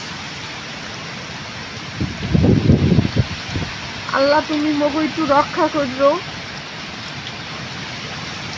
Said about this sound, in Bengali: বৃষ্টির কারণে আর কি কোনো জায়গায় কিছু দেখা যাইতে আছে না আর বাতাস আর বাতাস এত বেশি বাতাস